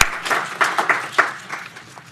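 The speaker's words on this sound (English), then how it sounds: "So join me in a round of applause for Aaron" An audience applauds a speaker being introduced at a tech talk, with scattered hand claps forming a brief, moderately loud round that tapers off within a couple of seconds.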